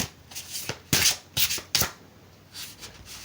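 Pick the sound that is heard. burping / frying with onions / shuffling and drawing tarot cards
shuffling and drawing tarot cards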